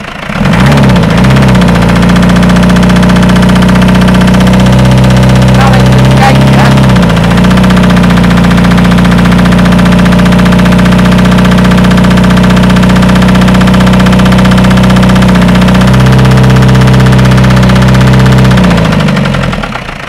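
A Peugeot 404 pickup's tired classic engine running roughly, a loud continuous low rumble with uneven knocking and slight fluctuations in speed, close up for twenty seconds and easing off at the end.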